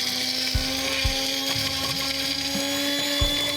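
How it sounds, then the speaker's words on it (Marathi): Electric kitchen mixer grinder whirring steadily as it grinds chili and spices, a loud continuous motor drone with a bright high whine and periodic low thumps from the jar contents. "हे मिक्सरला आता ग्राइंड करून घ्यायचंय."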